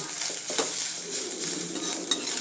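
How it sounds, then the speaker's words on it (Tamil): Grated coconut fries and gets stirred in a pan, a steady hissing sizzle broken by light scraping strokes of a spoon, close and moderately loud with no talk. "அதனால் நல்லா வறுத்துடலாம் தேங்காயை"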